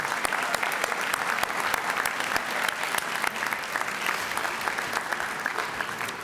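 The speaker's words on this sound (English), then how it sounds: "A round of applause, everybody, for these outstanding students." A school assembly audience claps for outstanding art and music students at a scholarship awards ceremony, producing a sustained, dense round of applause that stays loud and even from start to finish.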